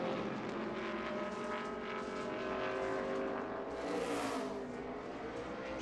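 NASCAR stock car on a qualifying lap at the Loudon track, a distant engine roar that holds steady across the clip and swells as the car passes, faint against the crowd and open-air ambience.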